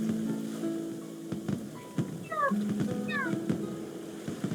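A cat gives two short, high meows a moment apart, faint and close, over soft background sounds in a quiet room.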